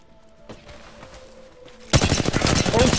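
Video game gunfire in a shooting match starts as faint distant pops under a steady tone, then turns into a loud, rapid automatic burst close by that keeps rattling.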